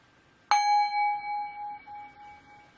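A single bell is struck once, giving a bright metallic ding that rings on and slowly decays over a couple of seconds in a quiet room.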